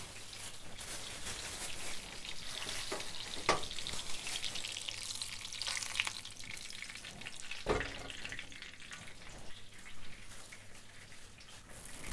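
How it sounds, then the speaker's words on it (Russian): Continuous soft sizzling and crackling of a cutlet frying in a pan, with occasional louder pops, close and steady throughout. "Последняя одна котлета жарится сейчас."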